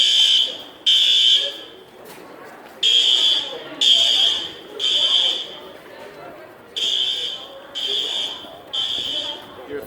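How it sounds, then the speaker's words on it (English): School fire alarm sounding during a fire drill: a loud, high electronic horn pulsing in regular bursts about a second long, with short gaps between, while people chatter faintly in the background. "Your third fire alarm."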